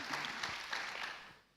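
Applause from an audience for an award winner at a creators' challenge final, clapping dense at first, then thinning and fading out near the end.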